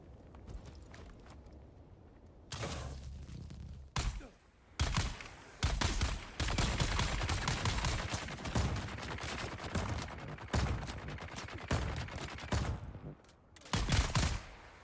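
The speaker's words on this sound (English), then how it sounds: "Somebody's throwing grenades." Grenades explode in the video game Dune: Awakening as loud, sharp blasts and rapid bursts of gunfire-like cracks, arriving in clustered volleys separated by brief quieter gaps.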